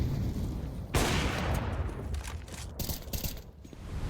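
Rapid gunfire in a Counter-Strike match on Dust2, a dense, continuous rattle of loud shots with sharp bursts layered over one another throughout.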